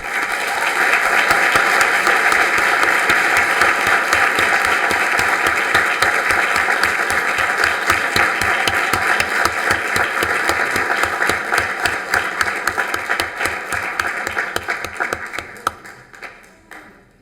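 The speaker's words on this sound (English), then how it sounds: "please join me in honoring and applauding Ms. Kelsey Burke" Sustained applause from an audience at a city commission meeting, dense and loud with crisp overlapping claps, holding steady before thinning and fading out near the end.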